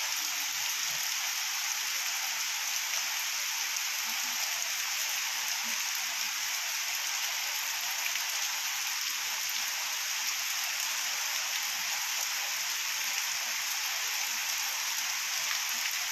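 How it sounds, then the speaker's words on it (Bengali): Heavy morning rain pours steadily in Berhampore, Murshidabad, a dense unbroken hiss of drops on surfaces, moderately close and constant. "সকাল থেকে শুরু হয়েছে প্রচণ্ড গতিবেগে বৃষ্টি"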